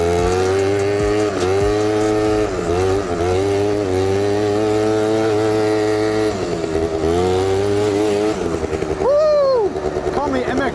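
Quad bike engine held at a high, buzzing rev with small rises and falls, then one sharp rev spike near the end, loud and close throughout.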